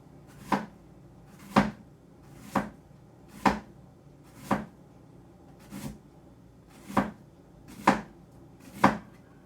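A knife chops onions on a cutting board with nine evenly spaced, crisp thuds about a second apart. Each chop sounds close and clear against a quiet room.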